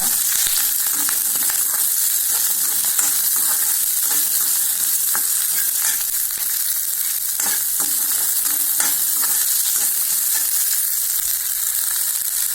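Onion, curry leaves and two chillies frying in a pan for tomato chutney, a continuous loud close sizzle and crackle with frequent stirring scrapes, no speech.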